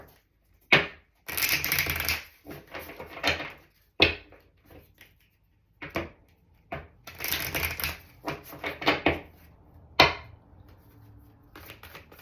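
A tarot advice card deck being shuffled and drawn up close, heard as bursts of riffling card flutter separated by sharp taps and short pauses, with no talking.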